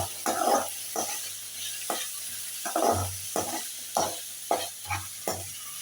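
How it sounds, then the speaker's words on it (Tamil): Green chillies frying in oil in a pan, with a soft sizzle under a series of distinct scraping stirs, about eight strokes in an uneven rhythm, close by and with no speech. "பச்சை மிளகாவையும் போட்டு அதில் நல்லா ஃப்ரை பண்ணுவோம்"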